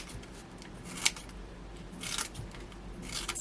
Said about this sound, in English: So I think I'm going to go for a 1mm foam pad with this. So it means I'm going to have to cut some down